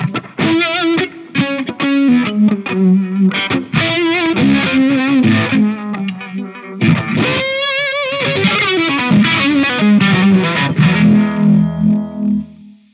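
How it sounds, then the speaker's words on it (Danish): An electric guitar played through a Microvibe univibe-style pedal set before distortion, its chords and riffs warbling with a throbbing, chorus-like modulation, loud and close with no talk. "det er en microvibe, altså en univibe, den skal sidde før dit forvrængerkredsløb"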